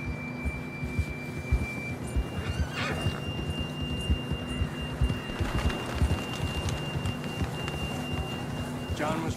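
A horse in Red Dead Redemption 2 whinnies amid hoofbeats and game ambience, with short neighing bursts rising over a steady background hum and rhythmic galloping thuds.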